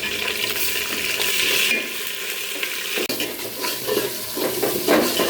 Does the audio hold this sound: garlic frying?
yes